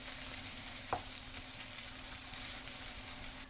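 Ful (fava beans) being stirred in a covered pot on the stove, with a steady low sizzle throughout and one brief scrape or knock of the spoon, close and alone with no voices.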